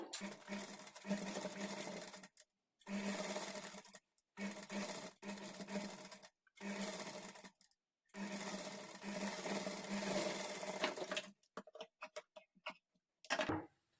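A sewing machine stitches a princess-cut blouse in several steady runs of a few seconds each, separated by short pauses, ending with a few quick stop-start bursts. The sound is close and moderately loud, with no talking over it.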